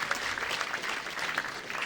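A ceremony audience at a mayor's New Year's address applauds a jazz quartet in a short, even burst of clapping that holds at moderate loudness for about two seconds.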